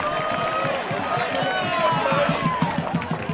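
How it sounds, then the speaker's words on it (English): Soccer fans buzzing in the stands at Cochrane Stadium during a BGSU men's match against Marshall, a busy murmur of many voices with a rhythmic patter, steady and moderately loud beneath a nearby voice talking. "you can still hear the buzz amongst the fans here at Cochrane Stadium"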